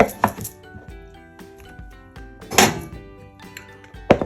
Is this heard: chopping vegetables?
yes